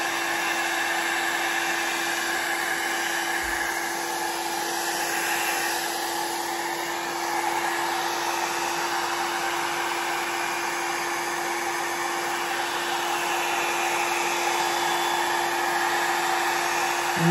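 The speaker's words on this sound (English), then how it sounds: "Put a little heat on it with the dryer." A hair dryer blows steadily at close range over alcohol ink, a constant whooshing whir with a faint high whine, running unbroken without any voices.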